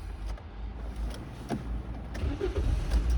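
A 2012 Toyota Avensis with added gas equipment turns over and starts, a low engine rumble rising toward the end, recorded close by with no talk.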